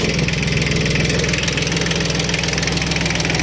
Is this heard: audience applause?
no